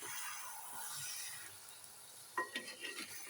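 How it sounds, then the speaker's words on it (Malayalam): Fish cooked with grated coconut in a pan is gently turned, a faint low simmering sizzle followed by a few soft scraping and clinking stirs near the end, quiet and close. "ഇതേ നമ്മുടെ മീനൊക്കെ നല്ല ശരിയായിട്ടുണ്ട് നമുക്കിത് പതുക്കെ ഒന്ന് ഇളക്കി ഇളക്കി മറിച്ചിടാം"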